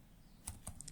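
A computer keyboard gives a few faint, sparse clicks, two distinct taps followed by lighter ones, quiet and close with no voices.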